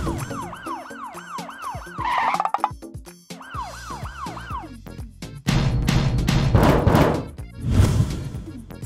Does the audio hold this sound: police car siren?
yes